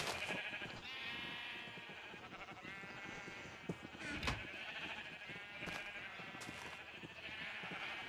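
Minecraft sheep bleat in a quiet, continuous blend of wavering calls, several overlapping at low volume with a few soft clicks between them.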